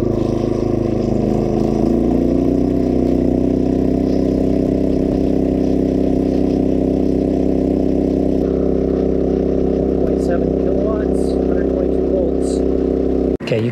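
A generator engine runs steadily and loudly, charging off-grid batteries through an inverter, with a constant droning hum and a few faint higher sounds near the end before it cuts off abruptly.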